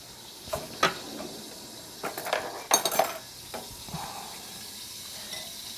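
A roux stirred constantly in a pan for Hong Kong cha chaan teng pork chop fried rice: soft scraping with a few sharp clinks of utensil against the pan, intermittent and fairly quiet.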